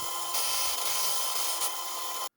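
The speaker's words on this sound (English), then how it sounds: "my trusty little IntoResin 3-in-1 sander and polisher" An IntoResin 3-in-1 sander and polisher working a resin beach coaster gives a steady, high-pitched whine that holds even and loud for about two seconds and then cuts off abruptly, with no one talking.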